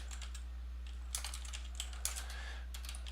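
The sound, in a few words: typing on a computer keyboard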